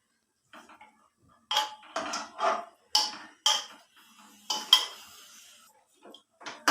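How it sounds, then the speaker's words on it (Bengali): Mutton with gravy being tipped into a pressure cooker, a series of distinct metallic clinks and scrapes of a spoon against the pot, spaced irregularly, close and fairly loud with quiet gaps between. "এবারে প্রেসার কুকারে আমি মটনটা সিদ্ধ করে নেব। সমস্ত মটন গ্রেভি সমেত এখানে দিয়ে দিলাম।"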